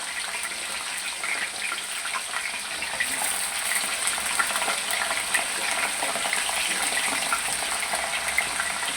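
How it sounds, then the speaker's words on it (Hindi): Diced potatoes frying in hot oil make a continuous dense hiss and crackle that holds steady throughout, with no voices. "हमने आलूओं को सबसे पहले फ्राई करना हो।"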